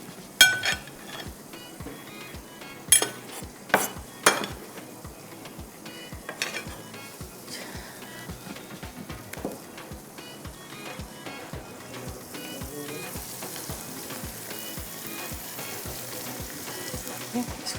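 Chopped tomatoes fry in a karahi with a soft steady sizzle, while a spoon scrapes and knocks against the metal pan in irregular clanks and stirring strokes, fairly quiet and with no talking.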